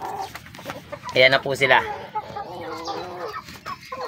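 Rhode Island Red chickens, three roosters and four hens, give a short burst of loud clucks and squawks close by, with a person talking softly around them.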